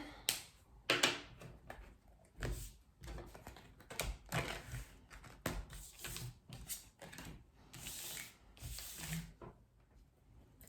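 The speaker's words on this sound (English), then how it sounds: "I'm going to shuffle for Capricorn." A deck of tarot cards is shuffled by hand, giving quiet, close, irregular riffling and flapping bursts with short pauses between them. No one speaks.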